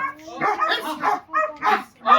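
A dog barks and yips in rapid repeated bursts during guard-dog bite training, close and loud, with someone shouting commands over the barking.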